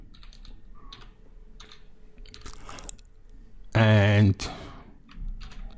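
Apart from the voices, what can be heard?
typing on a computer keyboard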